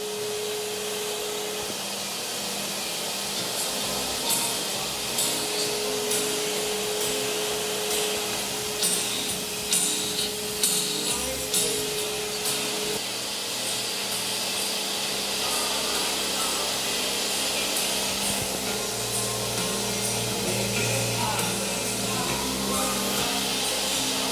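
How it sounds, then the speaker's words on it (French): A vinyl record cutting lathe runs with its suction system switched on, a steady whooshing vacuum drone with a faint tone and scattered clicks, music faintly bleeding through as the groove is cut. "quand on met en route l'aspiration et on envoie la musique"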